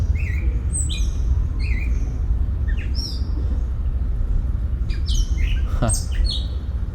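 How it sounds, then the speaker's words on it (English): Several birds outdoors give repeated short chirps and squawking calls, some close and loud, over a steady low rumble of wind or background noise. "That's a beautiful bird, isn't it?"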